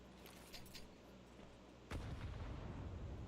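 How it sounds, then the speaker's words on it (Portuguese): Grenade blasts in a competitive first-person shooter match, heard faintly at first and then a sudden loud low boom near the two-second mark that rumbles on to the end of the clip. "Acertaram 2 granadas na Ray."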